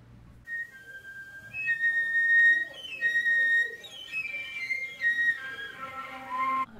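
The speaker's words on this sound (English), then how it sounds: "just a very slight change in like air pressure or embouchure or tongue placement can make the whistle tone move to a different note" Soft whistle tones on a flute, an extended technique, give thin, high, pure pitches that hover and slide between several notes. The passage is quiet and delicate, with brief wavering changes in pitch.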